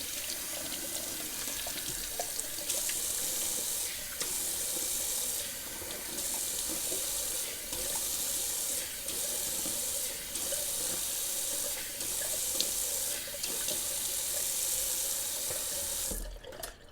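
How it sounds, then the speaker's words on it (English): Cold tap water runs steadily into a sink for a rinse during a wet shave, a continuous hiss and splash at close range that stops abruptly near the end. "I'm just going to do a cold water rinse."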